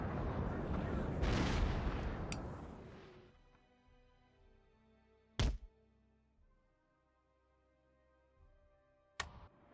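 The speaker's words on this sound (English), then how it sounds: "I'm going to keep firing at them." Battle in Napoleon: Total War, with a big rumbling artillery boom that dies away, then two sharp isolated gunshot cracks several seconds apart against near silence.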